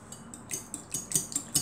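Eggs and mixed vegetables for a frittata being whisked in a bowl, with a series of quick metallic clinks and scrapes against the dish, close and fairly loud.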